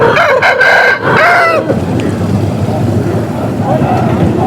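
A Punganur rooster crows loudly and close by at a poultry market, its call rising and breaking off, followed by a quieter outdoor background with a faint later cry.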